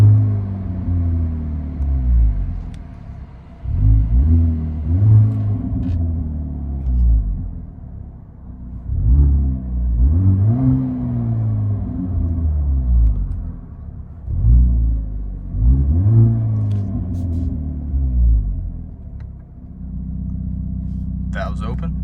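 Inside a 2023 Hyundai Kona N with a 2.0L turbo and AFE cat-back exhaust, valves closed, the engine revs up about five times in repeated rising and falling swells, then settles to a steady low drone, with some talk between revs.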